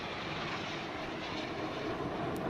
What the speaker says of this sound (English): That's the roar of the MiG-29s.